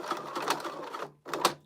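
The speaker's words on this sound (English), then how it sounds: "I'm just gonna stitch this all the way around." A sewing machine stitches around a crossbody bag in two short runs of rapid, chattering whir, close and moderately loud, separated by a brief pause.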